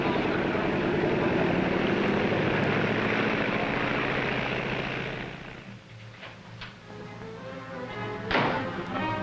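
A propeller airliner engine drones loudly and steadily at close range, then fades away around the midpoint, leaving quieter background with a few faint thumps and brief noises near the end, set at an airport for a flight to Reno in a 1940 film.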